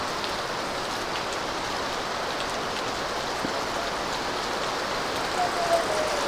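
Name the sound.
heavy rain during a typhoon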